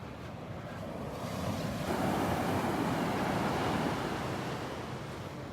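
Gulf of Mexico surf rolls onto the beach at Naples, Florida, one soft wave swelling and washing in under a steady breeze, moderately near and alone.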